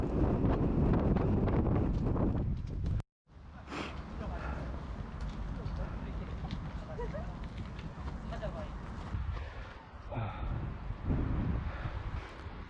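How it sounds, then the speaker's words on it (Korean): Wind gusting across an exposed mountain ridge, buffeting the microphone with rough rumbling noise that briefly cuts out, then continues more steadily with faint rustling. "바람이 불어서 너무 시원하네요."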